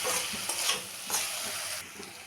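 Cumin, chili powder and slit green chilies sizzle and hiss steadily in a hot pan, with a few soft stirring scrapes, close and alone.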